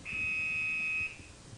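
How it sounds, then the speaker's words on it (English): A steady, piercing electronic fire alarm tone in an office sounds for about a second, then cuts off, leaving low background rumble. "When you hear a fire alarm,"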